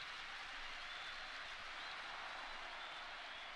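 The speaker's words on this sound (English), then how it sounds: "Shouts and applause thunder in my ears" Video game crowd applause, a steady dense wash of clapping that holds at an even level throughout, moderately distant.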